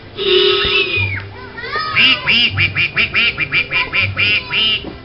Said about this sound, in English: A lot of ducks out on the pond.